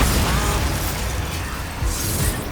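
In the video game Hogwarts Legacy, the Bombarda spell sets off a loud explosion. A heavy, dense burst fills the whole clip, with rumbling low end and a rising, bright tail.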